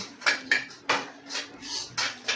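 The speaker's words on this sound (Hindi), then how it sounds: "सूजी का हलवा बनाएंगे, तो सूजी भून रहे हैं" Semolina roasting in a pan for sooji halwa, heard as a string of sharp metallic scrapes and clinks of a spoon against the pan, about six strokes in an uneven rhythm, close and clear with no talking.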